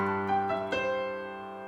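A short descending run of piano notes rolling down from high C rolls downward, then rings out and fades softly.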